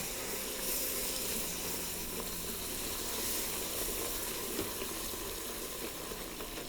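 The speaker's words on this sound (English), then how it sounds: "And let your vegetables cook down with your roux that you started." Vegetables for gumbo cook down in a flour-and-butter roux inside an Instant Pot, giving a dense, steady hiss and sizzle that stays close and even throughout, with no voices.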